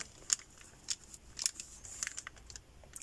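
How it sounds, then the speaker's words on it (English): Scissors cut paper and the paper is ripped while making pockets, giving faint, close crisp snips and short tearing rasps in an irregular rhythm, with no talking. "cut about here and rip."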